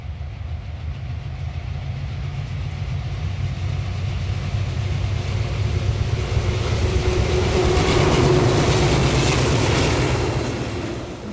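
Green Bay and Western Railroad Alco four-stroke diesel locomotives rumble past with a deep, steady engine drone, and wheel noise grows louder toward the end before easing slightly.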